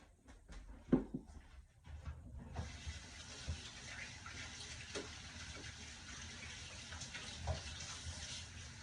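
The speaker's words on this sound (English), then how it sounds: "Let me go rinse my hands off for a minute." Tap water runs steadily over hands being rinsed at a sink during home chicken cooking, a continuous close splash with a few louder bumps near the start.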